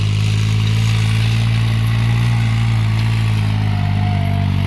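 A New Holland 3630 tractor engine runs steadily in third gear, a loud, close, continuous diesel drone with a deep low hum and faint clatter, without speech.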